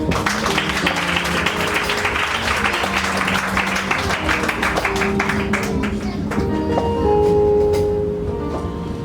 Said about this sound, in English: Are you clapping for them?